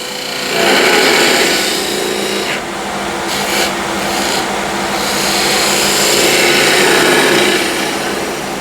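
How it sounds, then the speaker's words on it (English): A lathe tool makes a slicing cut across wood end grain, a steady, loud, hissing scrape that runs almost unbroken for about eight seconds, with brief dips in intensity midway and no talking. "Slicing cut on the end grain."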